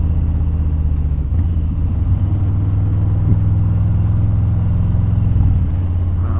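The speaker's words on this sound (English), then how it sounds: "So much traffic." Steady road traffic rumbles continuously as cars and trucks pass nearby, a deep engine drone with occasional swells from heavier vehicles.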